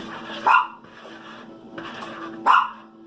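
A dog gives two sharp, loud barks about two seconds apart, close by, with a low steady hum and quieter sounds between them.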